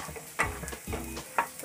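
Carrot and onion roast lightly in a pan for vermicelli upma, a faint frying hiss with two distinct spatula knocks against the pan, quiet and close.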